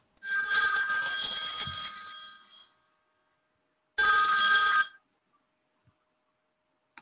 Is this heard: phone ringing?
yes